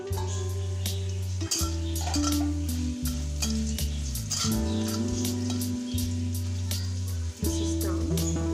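Ruti bhaji cooks in a pan with a loud, steady close sizzle, broken by occasional scrapes and stirring clatter against the pan, while a continuous low tone hums underneath throughout.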